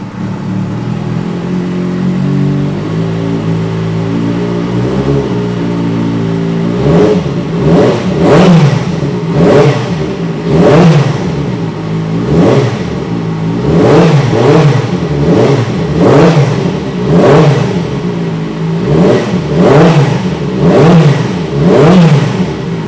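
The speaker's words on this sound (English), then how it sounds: "Right, let's start this up and have a listen to the Two Brothers exhaust." A 2007 Kawasaki ZX6R with a Two Brothers exhaust starts and idles, then is revved repeatedly in quick, rhythmic bursts of high-pitched, rasping engine noise, close and loud with no talking.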